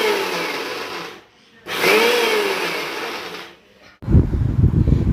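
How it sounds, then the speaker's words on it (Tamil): An electric mixer grinder runs in two loud, close whirring bursts while grinding soaked moong dal, each winding down before a rougher, rattling final burst. "இந்த மாதிரி கொஞ்சம் கொஞ்சமாக நம்ம மிக்சியில் போட்டு அரைச்சி எடுத்துக்க போகிறோம்"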